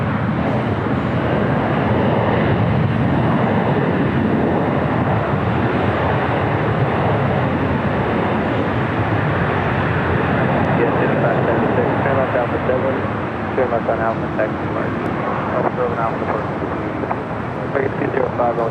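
An airliner arriving at Los Angeles International Airport from Louisville, Kentucky gives off a loud, sustained jet roar that holds steady and then eases slightly, with wind buffeting the microphone and voices talking over it.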